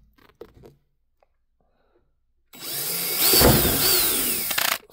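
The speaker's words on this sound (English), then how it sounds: "Next thing you want to do is drill a hole." After a few quiet knocks, a power drill whirs up loudly and grinds steadily for a couple of seconds, drilling a mounting hole in the end piece of a DIY aquarium light, before stopping.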